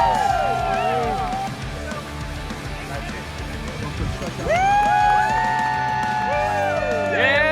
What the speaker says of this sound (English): We're cheering for him here.